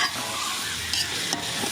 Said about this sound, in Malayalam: ഇനി നമുക്ക് ഒരു 4 തണ്ട് കറിവേപ്പിലയും കൂടി അതിൻ്റെ അകത്തോട്ട് ഇട്ട് കൊടുക്കാം